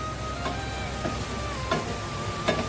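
A spoon stirs and mixes capsicum (shimla mirch) in a pan, giving a few scraping strokes at a steady pace over a faint background sizzle, close by and without talk.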